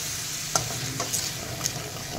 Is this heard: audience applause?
no